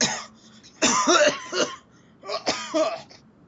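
Several rough coughs in short bursts, close and fairly loud, with brief pauses between them and no talking.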